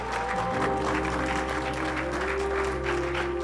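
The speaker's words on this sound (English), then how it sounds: "Je vous prie d'applaudir." Audience applause at a Blue Invest Africa business event in Kenya as speaker Madame Kanaté takes the podium: continuous, moderately loud clapping over a low steady hum, no speech.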